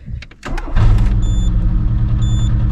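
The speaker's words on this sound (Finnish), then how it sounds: "Niin nyt pitäisi kokeilla sitten, että lähteekö se vielä käyntiin" An old field car's engine cranks with a few quick whirring turns, then catches and settles into a loud, steady close-up idle.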